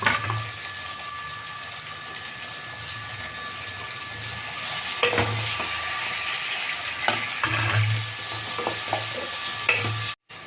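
Steady sizzling of onion and tomato frying in a pan for upma, with stirring scrapes and clinks recurring through the clip; no voices.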